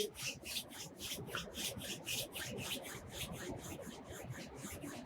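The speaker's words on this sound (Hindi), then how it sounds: "पाम्स को आपस में रब करेंगे।" Palms rub together in a yoga session, making a soft, rhythmic swishing friction of about a dozen quick back-and-forth strokes, close and fairly quiet with no talk over it.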